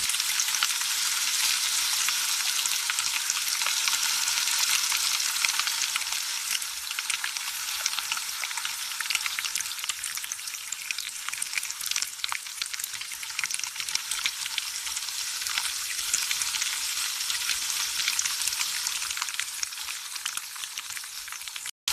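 Squid sizzling and frying in a pan, a continuous bright hiss of hot oil with faint stirring scrapes, steady and close with no voices.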